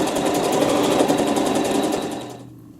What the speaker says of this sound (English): stop the machine so you can cut that thread tail. And then it's going to sew some quilting stitches